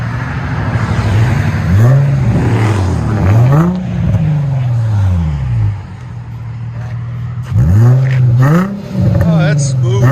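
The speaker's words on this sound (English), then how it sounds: "it's barely hitting 104. And that's revving it all the way up." A car engine with a quieted exhaust revs up repeatedly in rising and falling sweeps, fairly loud and close, with a smooth, subdued exhaust note and people talking over it.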